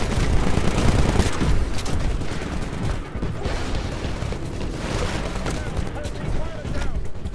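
Sustained, dense gunfire from the Titanfall video game as a Sentinel is shot: loud, rapid, overlapping shots fill the whole stretch with hardly a pause.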